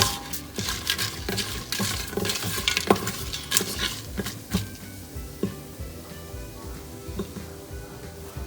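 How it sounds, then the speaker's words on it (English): Spices and cashew nuts stirred in melted ghee in a pan: a soft sizzle under repeated, irregular scrapes and clinks of a spoon against metal, busier at first and then easing off. "let's simply add all the spices and cashew nuts. Give that a good mix."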